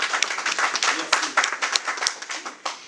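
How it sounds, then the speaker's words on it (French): Guests applaud at an official wedding ceremony in Villetaneuse, a lively, uneven clapping from a gathered crowd with distinct hand strikes, loud and close, with voices mixed in. "on peut l'applaudir très fort et merci"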